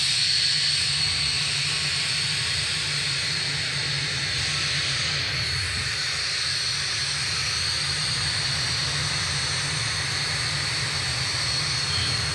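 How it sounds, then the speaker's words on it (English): The jet engines of the Boom XB-1 supersonic demonstrator run steadily on the ground in Mojave, California, before shutting down. A loud, continuous roar with a high whine holds nearly level throughout, with no voices. "The engines are going to be shutting down on XB-1 for the final time"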